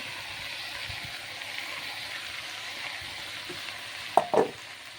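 Bitter gourd, potatoes, onion and garlic stir-fried in a pan, giving a quiet, steady sizzle, then two sharp utensil knocks near the end.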